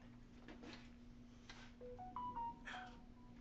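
A mobile phone chirps a short rising series of text-message notification tones, faint and close, over a steady low electrical hum in a quiet room.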